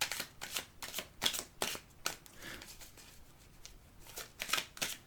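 Tarot angel cards being shuffled and drawn, a string of quick, crisp riffling flicks and soft slaps that come in uneven bursts, close and fairly quiet, with no talk.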